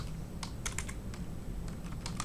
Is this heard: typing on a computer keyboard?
yes